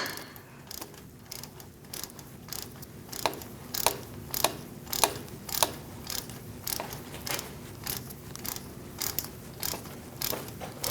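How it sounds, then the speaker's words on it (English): A ratchet with a 10mm socket loosens a wheel speed sensor bolt on the steering knuckle of a 2002-2006 Toyota Camry, giving a series of close, crisp clicking bursts in an irregular rhythm with no talking. "Using a 10mm socket, I'm going to remove this bolt"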